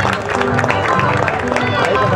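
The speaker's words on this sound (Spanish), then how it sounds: "Un aplauso para la chica." Crowd clapping and cheering for a girl at a rural rodeo cattle-sorting event (aparte campero) in Junín, Mendoza, a steady burst of applause over continuous crowd noise and voices.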